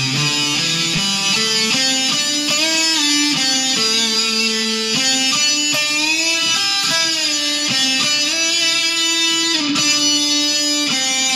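Electric guitar plays a song's solo an octave lower, a continuous, sustained melodic line of bright, distorted notes that stays loud and close, unaccompanied and with no voices over it.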